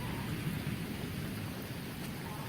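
Thunderstorm rumble blends with a dense, steady hiss of falling rain, heard up close and continuous with no voices.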